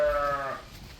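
Sheep and goats inside a barn at a historical reenactment village let out a single loud, wavering bleat that fades out over about a second, close to the listener.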